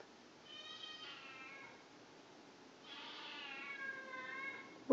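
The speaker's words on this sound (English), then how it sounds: "This is what the kitten sounds like" A kitten shut in and wanting out meows twice, each a thin, drawn-out plaintive cry with a pause between, fairly close and moderately loud in a quiet room.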